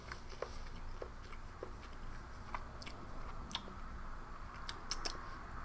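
Roasted unsalted almonds from an MRE being chewed close to the mic, giving faint, irregular crunches and clicks over a quiet hum.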